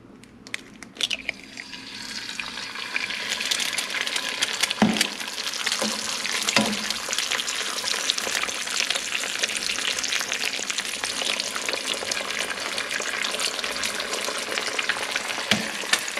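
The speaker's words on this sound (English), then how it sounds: "My arm is cooking up quite nicely with this bacon grease splattering all over it." Bacon fries in a pan with a loud, continuous sizzle that swells after a few seconds, with occasional stirring clatter and spitting grease, up close and without talk.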